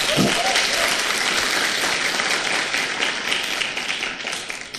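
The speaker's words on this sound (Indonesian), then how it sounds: "Tepuk tangan dong buat Anda." An audience at a sales and network-marketing seminar breaks into steady, dense applause that keeps going without a break, with a brief voice at the start.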